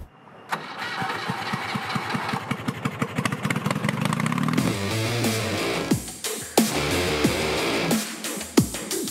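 A hot rod car built from scrap metal, powered by an 800 cc motorcycle engine, cranks with rapid rhythmic turnover, then fires and revs loudly with uneven blips and roars, heard up close.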